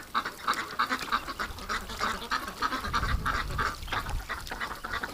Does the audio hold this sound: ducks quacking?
yes